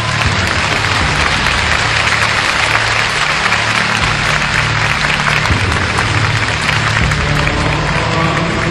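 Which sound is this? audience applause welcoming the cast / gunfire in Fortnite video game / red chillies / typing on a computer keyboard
audience applause welcoming the cast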